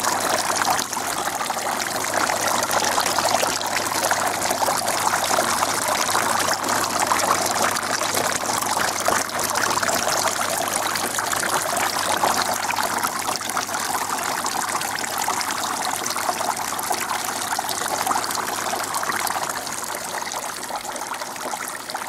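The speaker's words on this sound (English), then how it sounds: "good this looks like, this stream of water." A homemade fountain sends a steady stream of water trickling and splashing continuously at close range, a dense even wash of sound with no voices.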